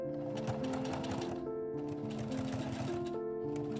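A sewing machine runs steadily, stitching waist tape down along the boning channels of an 1870s corset, its fast mechanical hum continuous and close, with faint background music.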